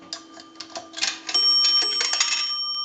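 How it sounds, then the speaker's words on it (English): A dime drops into a repaired and converted Automatic Electric payphone, clattering through the coin chute with light clicks before a bell chimes, leaving a clear ringing tone that sustains and fades. "That's going to ring the bell twice."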